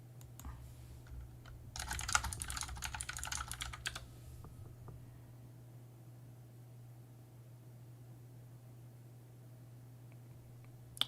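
Computer keyboard typing in a quick burst of keystrokes, fairly close and moderately loud, set against a steady low electrical hum, then trailing off into a few scattered taps and quiet background.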